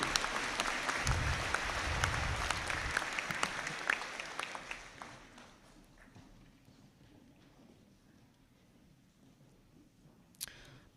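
An audience at a university conferring ceremony claps loudly for a few seconds, then the applause thins and fades into quiet room tone.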